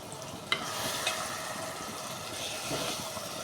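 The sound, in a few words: brinjal (eggplant) frying in oil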